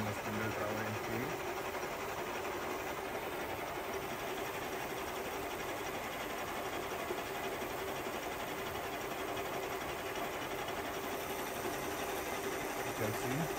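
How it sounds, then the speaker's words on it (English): SIP MP-3K jig boring machine running its spindle travel in feed, a steady mechanical whir and hum with a faint high whine, continuous and close throughout. "working the spindle travel in feed"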